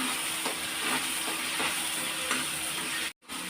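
A tomato and cashew paste with fried onion sizzles and hisses in a pan for dhaba-style paneer masala, a loud steady fry with soft stirring scrapes, briefly cutting out near the end.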